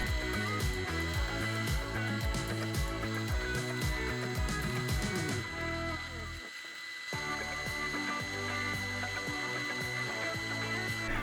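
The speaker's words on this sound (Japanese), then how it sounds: "ウレタン吸音材に持ち手を通す穴を開けていきます。 使用したドリルは木工用になります。" Woodworking drill boring holes through urethane foam sound-absorbing panel, a steady whirring motor with rhythmic grinding, briefly pausing partway before resuming, recorded close in a workshop.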